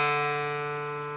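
A mountain dulcimer bass string tuned to D3, plucked once and left ringing in a steady, slowly fading tone.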